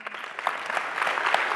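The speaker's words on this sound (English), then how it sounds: "enough of the clapping already" An audience at a congress talk claps steadily, a dense, even patter of many hands, close and fairly loud for the brief stretch.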